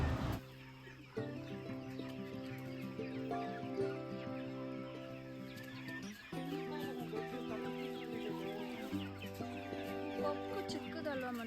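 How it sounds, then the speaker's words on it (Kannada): Native country hens on a farm cluck in repeated drawn-out, tonal calls, fairly close and overlapping, with a few voices faintly heard in the background. "ಅದಕ್ಕೆ ಅಷ್ಟು ಗಟ್ಟಿಯಾಗಿರೋದು ನಾಟಿ ಕೋಳಿ."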